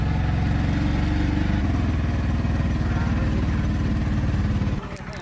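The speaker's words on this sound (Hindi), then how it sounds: "तो भाई हमारा ऑटो जो है थोड़ी खराब है, खत्म हो रहा है इसका इंजन उंजन बैठ रहा" A worn, struggling auto-rickshaw engine on a hill road runs loud and close with a rough, clattering chug that cuts out near the end, and voices are heard over it.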